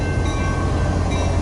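An EMD SD70MAC diesel locomotive rumbles heavily and continuously at close range, a dense, loud low-frequency drone with steady mechanical roar.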